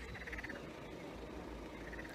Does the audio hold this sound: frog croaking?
yes